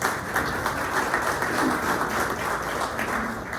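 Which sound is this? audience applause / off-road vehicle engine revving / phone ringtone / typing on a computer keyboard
audience applause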